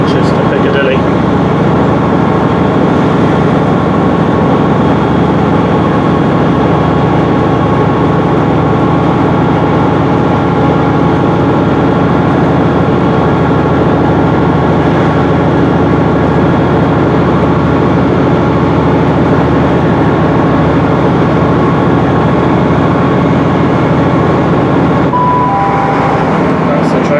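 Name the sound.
train running on the Hope Valley line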